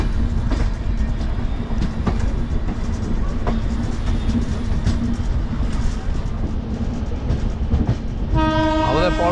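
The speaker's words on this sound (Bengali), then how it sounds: "একদম নির্ধারিত 4:15 মালদহ স্টেশন থেকে ছেড়ে দিল দার্জিলিং মেল" Darjeeling Mail train pulling out of Malda station before dawn, a steady rumble and rattle of wagons running throughout, with a loud horn blast sounding near the end.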